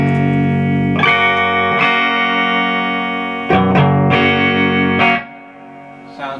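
Electric guitar played through a VOX AC30 reissue amplifier with reverb: sustained distorted chords struck several times in a steady rhythm, ringing loudly and close with a reverberant tail, no voices.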